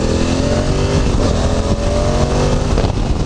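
A 2016 Honda CRF1000L Africa Twin motorcycle accelerating hard, the engine note loud and steady and rising through a gear change, with continuous wind rush over it.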